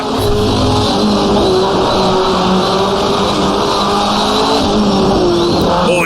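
A 1985 CART turbo Indy race car engine screams in the rFactor2 racing game, loud and sustained at high revs with a steady whine, tire noise underneath and no pauses.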